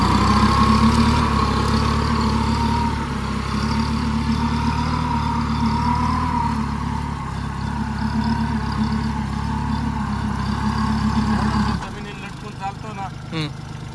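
A Swaraj Target tractor engine runs with a steady, close low hum that drops off near the end, while people talk over it.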